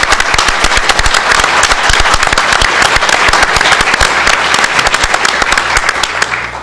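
A large audience at a state government announcement applauds senators and assembly members with loud, dense, sustained clapping that holds steady throughout and eases slightly at the very end, with no voices over it.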